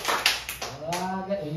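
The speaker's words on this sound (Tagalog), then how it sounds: "palakpak tayo sa bagsak" A church congregation clapping together on a count, a few loud, close bursts of claps followed by a voice speaking.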